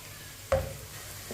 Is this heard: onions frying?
yes